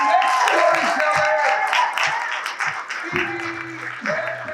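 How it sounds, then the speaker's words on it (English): Applause greets a storyteller walking onto a stage at a storytelling event, a dense wash of clapping that stays steady and loud, with cheering voices and calls rising over it near the end. "please give your warm welcome and applause coming to the stage,"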